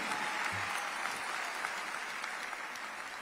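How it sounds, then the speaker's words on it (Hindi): Steady, even applause from the audience at a Hindi poetry recital, a continuous wash of many hands clapping, moderately distant and unbroken throughout. "जरा उसके लिए तालियां बजाइए।"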